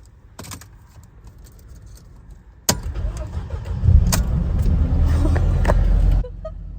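Keys jingle and click, then a Mercedes car engine cranks and starts, settling into a smooth, quiet idle that runs steadily before dropping off.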